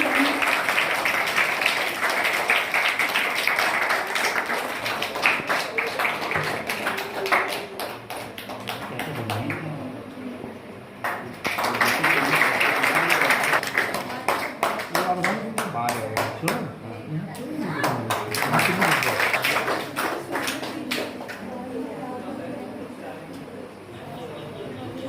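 Audience applause at a girls' motivation event in India where meritorious students are honoured, rising in loud waves of clapping with short lulls between them and voices talking throughout.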